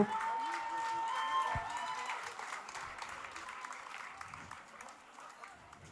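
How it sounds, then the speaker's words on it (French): Quiet audience applause for young performers at a concert, a room of clapping that fades gradually, with a high whistle-like tone and some voices early on. "On les applaudit très fort."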